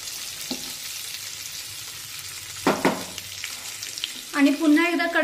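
Stuffed green chillies fry in a covered kadhai, with a soft steady sizzle and a few brief stirring or turning clatters near the end.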